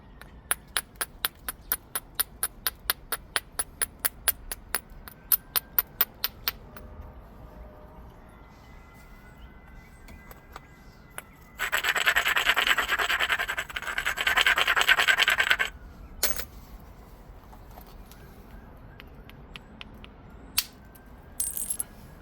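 Glass Buttes obsidian point having its base thinned by pressure flaking: a run of sharp, evenly spaced ticks and clicks, then stretches of scratchy grinding and a few scattered snaps, close and fairly loud.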